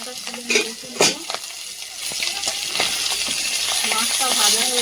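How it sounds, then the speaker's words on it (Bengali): Large deshi tengra fish frying in oil, a continuous sizzle that grows steadily louder, with a few scattered utensil knocks and pops early on, no voices. "মাছটা ভাজা হয়ে গেছে, তুলে নেব।"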